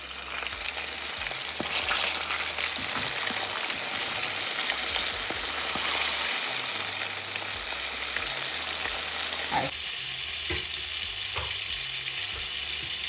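Jamaican chicken pieces, leg and thigh, frying in hot oil, a steady dense sizzle and crackle that runs close and loud throughout, with a faint low hum underneath and a brief shift in tone near the end.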